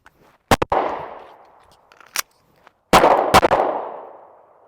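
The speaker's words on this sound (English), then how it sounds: "So we're going to do a 1-shot reload, 2 shots." Gunshots at a shooting range in a one-shot, reload, two-shot drill: a sharp double report near the start, a lone crack midway, then two loud close shots, each ringing out in a reverberant tail.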